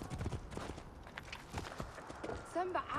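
Horse hooves clip-clop in a steady trotting rhythm while riding in the video game Assassin's Creed Origins, close and moderately loud beneath ongoing talking voices.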